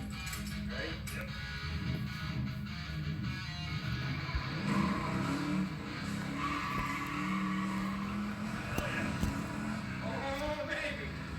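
A car in the Fortnite video game drives off, with engine revving and tires squealing and skidding at mid distance, while people talk and react excitedly over the steady game audio.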